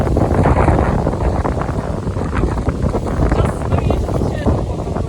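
Strong wind blows hard across the microphone outdoors, a loud, continuous buffeting roar that swells and eases with gusts, with muffled voices talking underneath.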